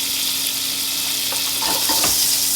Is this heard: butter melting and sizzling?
yes